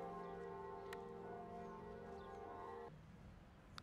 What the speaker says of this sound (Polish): Dzwony, które przed chwilą słyszeliśmy